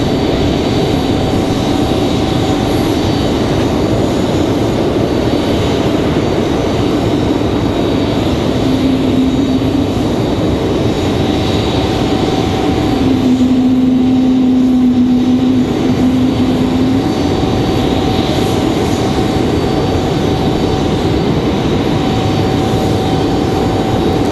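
An American Airlines Boeing 737-800 jet airliner arrives from Dallas Fort Worth at Raleigh Durham International Airport, a steady broad roar of engine noise held throughout at constant loudness, with a faint tonal whine running underneath.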